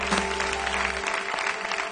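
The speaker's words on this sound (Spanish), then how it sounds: "Un aplauso para Sara y para Valentina" A studio audience at a Spanish TV show claps steadily for two young artists, a dense, even burst of applause filling the short moment with no talk.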